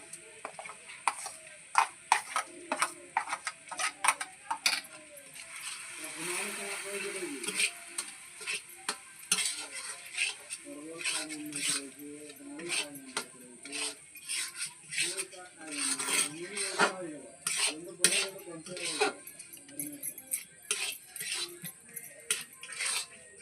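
Semolina is stirred bit by bit into cooked coconut in a pan for sujir naru, making quiet scraping and clinking spoon taps in irregular bursts, with soft voice-like sounds now and then.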